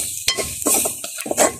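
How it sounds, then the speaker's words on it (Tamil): Grated coconut being dry-roasted in a pan for a village-style crab curry, heard as a series of close scraping and stirring strokes with light metallic clinks of the spoon against the pan. "இப்போ வந்து தேங்காய் பூவை நாங்கள் முக்கால் வறுத்தெடுத்துருக்குறோம்."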